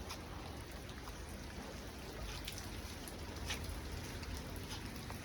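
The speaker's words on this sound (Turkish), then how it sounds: "maşallah nasıl yağmur var" Steady rain falling on a surface, a soft continuous hiss with scattered drops, no voices.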